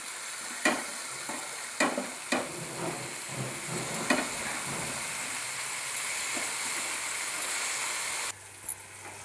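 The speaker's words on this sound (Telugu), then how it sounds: "ఉల్లిపాయలు బాగా వేగుతున్నాయండి." Sliced onions and onion stalks frying in oil in a pan, a steady soft sizzle with occasional stirring clicks and scrapes, no talking.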